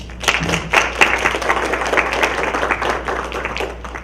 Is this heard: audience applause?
yes